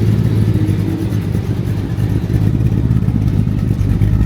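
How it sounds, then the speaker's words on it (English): A Holden muscle car with a 350 V8, automatic gearbox and factory Monaro-style exhaust runs steadily, giving a loud, continuous, deep engine rumble with no talk. "Got the nice note that these sort of Monaro style, factory Monaro style exhausts always had."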